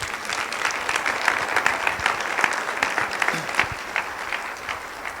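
An audience at a congress claps together in sustained applause, a dense patter of many hands staying fairly even from start to finish, with faint voices mixed in.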